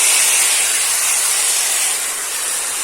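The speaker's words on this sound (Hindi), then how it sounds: "तो देखो संगवारी है हमारी भाजी भुंजाए के चालू हो गई है" Chench bhaji greens fry in a hot pan, Chhattisgarhi style: a loud, steady, close sizzling hiss that holds without pause for about three seconds, with no voices.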